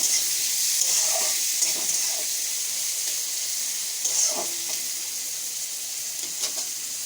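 Chopped onion frying in hot oil, a continuous close hiss and sizzle with occasional stirring scrapes and crackles, no voices.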